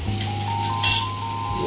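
Garlic dropped into hot oil in a kadhai gives a soft, steady sizzle, with a light metallic clink of a utensil partway through and a constant background hum.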